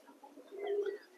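Pigeons coo softly in a loft, with a single low, throaty call swelling and fading against faint background noise.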